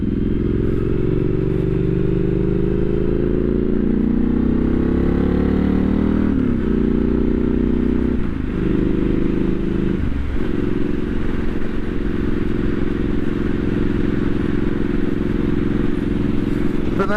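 Triumph Street Scrambler 900 motorcycle riding along, a steady loud engine drone with shifting pitch and a few gear changes, plus constant wind rush throughout.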